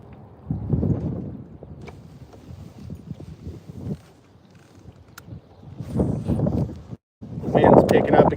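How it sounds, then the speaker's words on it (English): Wind gusts buffet the microphone on a fishing boat, coming in rough, low rumbling bursts that rise and fall, loudest near the end, with quieter stretches between. "Wind's picking up again right here."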